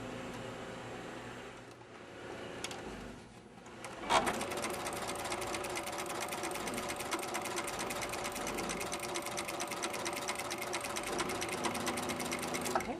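A sewing machine stitches quilt binding strips joined at an angle, starting quietly and then running as a steady, close, fast mechanical whir with rapid needle clatter that continues to the end.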